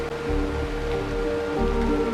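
Rain patters steadily on a surface in a Honkai: Star Rail scene, a soft continuous hiss of drops with a low, faint tonal hum beneath.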